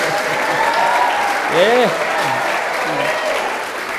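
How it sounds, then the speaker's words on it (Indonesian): An indoor audience at an education event breaks into steady applause, a dense, fairly loud wash of clapping lasting the whole few seconds, with voices talking over it. "Tepuk tangan untuk Frater ya."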